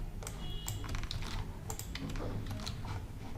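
Rapid, irregular keystrokes on a computer keyboard, close and steady for a few seconds, with a faint low hum behind and no talking.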